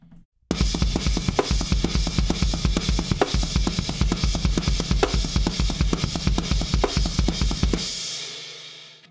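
A drum kit plays a slow rhythm with the snare spaced farther apart, as in a fake double pedal lesson: steady, close kick and snare hits with cymbal wash, repeating evenly for about seven seconds and then stopping, with no talking.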